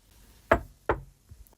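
Two sharp knocks on a cottage door, a beat apart and close by, followed by a fainter pair of softer taps in a quiet room.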